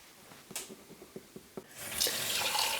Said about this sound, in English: I'm waiting for the water to get warm because I am washing my hands